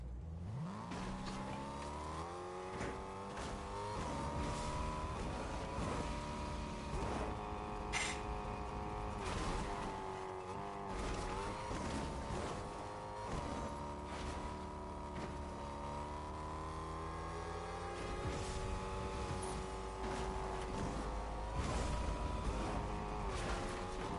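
A car driven in Fortnite, its engine droning continuously with shifting pitch as it climbs and revs, loud and steady throughout with no talk over it.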